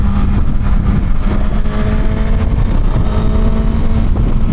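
A Suzuki GSX-S 1000 motorcycle with a quick shifter accelerates hard. Its engine roars loudly and steadily up close, mixed with heavy wind rush, and no voices are heard.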